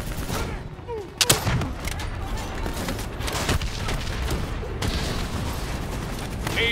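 A missile explosion in the shooter game Call of Duty: Black Ops 3 lands as a sharp, loud blast with a booming tail, amid ongoing gunfire and battle clatter.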